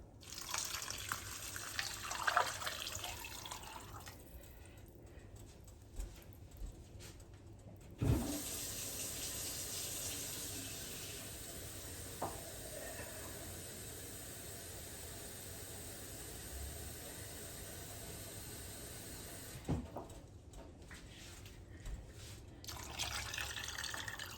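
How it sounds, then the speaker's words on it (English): Cold water pours steadily into a pot of red beans in a soft continuous stream, with a few clinks at the start and end, quiet and close. "Now we're going to add 6 cups of cold water."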